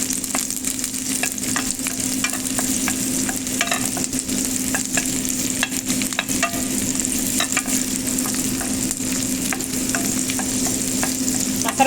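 Onion sautés in butter with a steady close sizzle, punctuated by frequent clicks and scrapes of stirring throughout.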